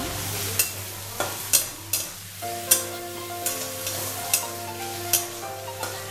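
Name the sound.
finely chopped onion frying in a pan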